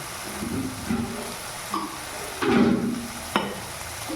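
Green chillies drop into an egg-and-sesame dish frying in a pan, giving soft sizzling with a few stirring scrapes and a louder burst of frying midway, no voices.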